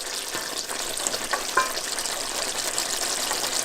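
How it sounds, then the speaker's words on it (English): Green cabbage and sweet potatoes simmering in a yassa sauce with caramelized onions, giving a steady close sizzle and bubbling throughout with occasional faint stirring clicks. "Just waiting on this green cabbage to cook up a little bit more, along with the sweet potatoes."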